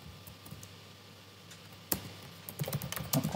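Keys clack on a computer keyboard while JavaScript code is typed, starting sparse and soft, then quickening into denser, louder bursts of clicks near the end.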